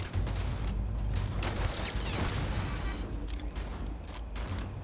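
Gunfire in the video game Starfield as a turret is destroyed: dense, continuous rattling shots and booming impacts fill the whole few seconds, loud and close with no talking.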